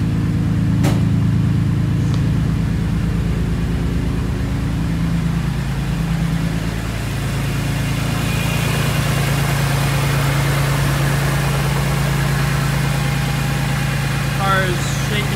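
A BMW E46 M3 engine idles steadily just after start-up, a loud continuous low rumble with a sharp click early on and faint voices over it.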